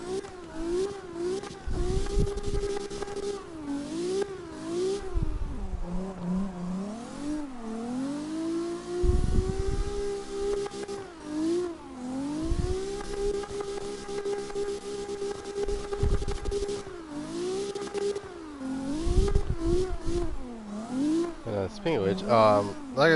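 A Maserati MC20 supercar engine in the Car X Drift Racing game, revving up and down again and again in rising and falling whines with some loud bursts, while a person talks over it.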